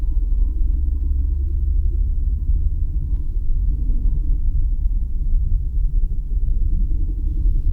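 A car rolls slowly through a parking lot in Country Club Hills, The Villages, Florida. Its low, steady engine and road rumble heard from inside the cabin stay even for several seconds, with no talk.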